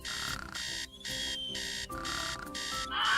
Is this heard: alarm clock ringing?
yes